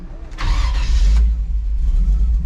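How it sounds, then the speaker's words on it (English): A fuel-injected 1959 Chevrolet Apache truck engine cranks briefly and fires up, settling into a loud, deep, steady idle close by. "it's as simple as standing even from the outside of the truck and firing it right up"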